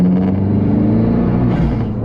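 A modified Abarth 595 Competizione with a Forge intake routed into the scuttle, its engine rumbling loud and close as it pulls, with a rising whistle from the turbo spooling up briefly over the drone.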